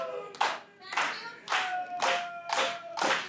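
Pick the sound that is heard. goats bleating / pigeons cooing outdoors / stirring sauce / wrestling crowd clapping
wrestling crowd clapping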